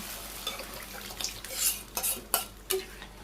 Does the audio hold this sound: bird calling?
no